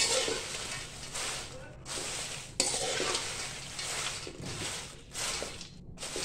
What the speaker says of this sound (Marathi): अशा पद्धतीने मी मिरच्या भाजून दाखवते आता तुम्हाला.